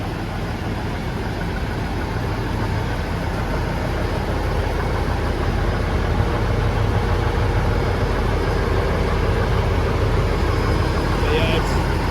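A 1983 Kenworth K100 cabover truck with a 400 Cummins diesel idles steadily, a loud continuous low rumble that holds even throughout with no revving.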